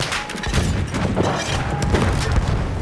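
A tank explodes amid battle in Battlefield 1, with a loud, sustained mix of booms and rapid gunfire crackling throughout.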